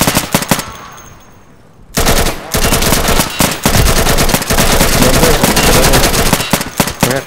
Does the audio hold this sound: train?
no